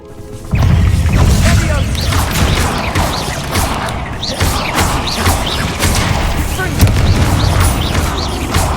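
Incendio and Confringo spells cast in Hogwarts Legacy set off loud, repeated blasts and crashing impacts. The booms come in quick bursts over several seconds of battle noise.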